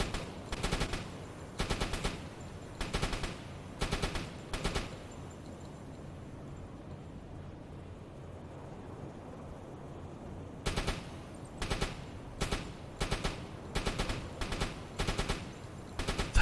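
Machine gun fire in the submarine game UBOAT rattles in short rapid bursts, a pause of quieter ambience in the middle, then repeated regular bursts resume, loud and close with no voices.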